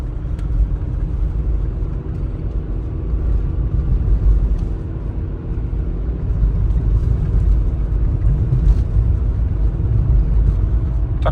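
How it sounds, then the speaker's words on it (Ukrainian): Volkswagen Bora with a 2.0 MPI engine and automatic gearbox cruising in fourth gear, a steady low engine drone and road rumble heard from inside the car, even and continuous. "Ми вже їдемо на четвертій передачі."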